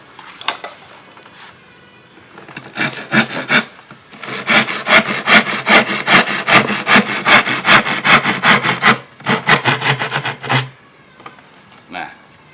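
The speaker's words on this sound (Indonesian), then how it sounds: "Selanjutnya dipotong menggunakan gergaji potong." A handheld crosscut saw cuts through wood in steady, rhythmic back-and-forth strokes, loud and close, with brief pauses before a long unbroken run of rasping strokes.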